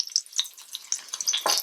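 Ginger and garlic sizzling in about four tablespoons of oil over high heat in a pan, a crackling, spitting fry with a sharper burst near the end, close and without talk.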